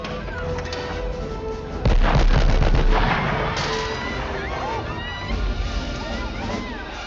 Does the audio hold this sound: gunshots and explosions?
yes